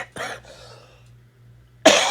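Two sharp coughs, the first short and the second louder, separated by a quiet stretch with a faint low hum underneath.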